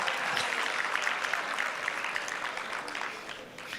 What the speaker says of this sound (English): Let's give the cameraman a good round of applause